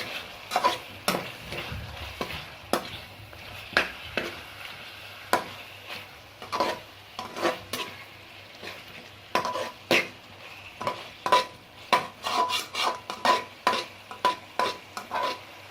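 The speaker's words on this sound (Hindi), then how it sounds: "ज़ीरा पाउडर और 2 टीस्पून कसूरी मेथी डाल इस सारे मिक्सचर को अच्छी तरह से भूनें।" Chicken masala mixture with cumin powder and dried fenugreek leaves is stirred and fried in a pan: a low steady sizzle under repeated sharp spoon scrapes and clinks that come faster toward the end, with no talking.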